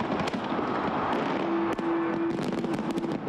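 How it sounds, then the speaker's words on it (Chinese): New Year fireworks burst over the London Eye and the Thames during a laser show, with a dense run of sharp cracks and booms over a continuous roar of crowd and crackle. "地标伦敦眼烟花四射，配合激光表演，闪耀太晤士河上空。"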